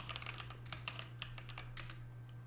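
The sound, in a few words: typing on a computer keyboard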